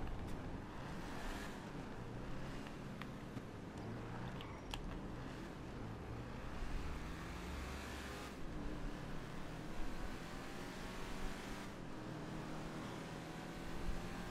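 An old car driven in GTA V Online gives a faint, steady engine rumble mixed with wind-like road noise, swelling and easing over several seconds with no talk.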